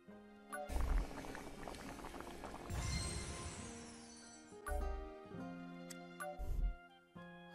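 Cooking in a video game set among the remnants of a human village: bubbling, boiling liquid effects swell in short bursts alongside sustained tonal game music, with no talking.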